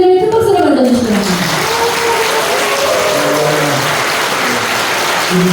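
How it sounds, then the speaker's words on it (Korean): Audience applause welcoming a pastor at a church seminar on next-generation revival, steady broadband clapping filling the room throughout, with voices and melodic tones over it at the start. "큰 박수로 맞아주시기 바랍니다"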